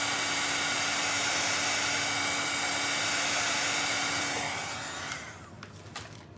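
A hair dryer blows steadily and loudly at close range over a gnome door hanger with wet blue and white paint, then cuts off near the end, leaving a few faint clicks and handling sounds.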